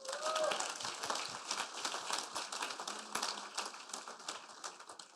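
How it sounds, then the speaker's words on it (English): Clapping from an audience at a city State of the City luncheon, honoring a sponsor; moderately quiet, scattered but continuous applause with crinkling noises, fading slightly toward the end. "give a huge round of applause for your luncheon showcase sponsor, IU Health."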